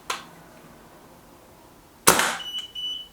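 A Kral Empire XS air gun fires through a chronograph, two sharp close shots with a quiet pause between, the second followed by a brief ringing tail.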